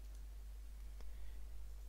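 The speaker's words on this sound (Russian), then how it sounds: "кликаем правой кнопкой мыши по названию «пуск»" A single computer mouse click in a Windows setting, one faint sharp tick in a quiet room with a low steady hum beneath it.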